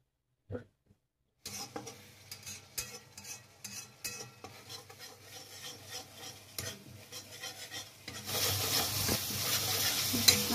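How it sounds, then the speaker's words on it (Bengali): Ground spices cooking down in a pan with a little added water for a Mughlai paratha potato curry, heard as repeated close scraping and stirring strokes that grow into a steady, louder sizzle toward the end, with no talk. "ভালো করে মশলাটা আমার একটু কষিয়ে নেবো।"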